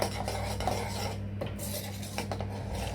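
Dishes and utensils clink and scrape in a kitchen while hot chocolate is served after thickening on the stove, with steady close-up clatter over a constant low hum and no voices.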